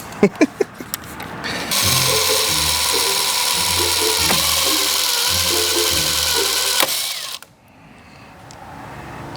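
A power drill whirs steadily for several seconds, drilling a pilot hole to fit over fenders on a sedan drift car, straining under load before cutting off abruptly as the bit breaks, preceded by a few sharp knocks.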